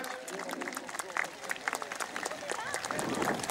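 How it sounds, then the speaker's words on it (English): An outdoor crowd at a 1940s wartime festival applauds after a World War II battle reenactment, scattered claps rising to a fuller round, with a voice speaking over it. "Let's give them a really good round of applause."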